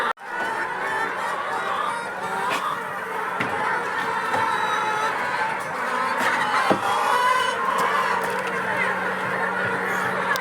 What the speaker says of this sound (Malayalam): ഇവിടെ നിറയെ കോഴികളുണ്ട്.